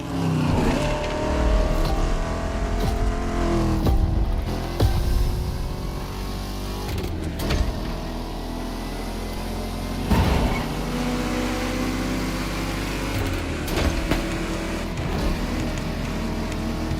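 Vintage cars race in The Crew Motorfest video game, their engines droning loud and steady throughout, with shifting revs and occasional sharp bursts as they accelerate.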